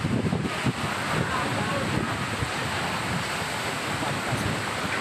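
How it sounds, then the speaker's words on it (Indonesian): Strong wind and heavy rain batter an urban area of Bekasi, a dense, steady roar of gusts and downpour that stays loud throughout, with a voice speaking over it. "Hujan deras disertai angin kencang melanda kawasan Bojong Menteng, Kota Bekasi sore ini"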